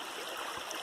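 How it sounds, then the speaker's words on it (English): A small stream trickles steadily along an Appalachian Trail hiking route, recorded close and low to the water, with a soft, continuous wash of running water and no talking. "low profile view of the beautiful trickling stream."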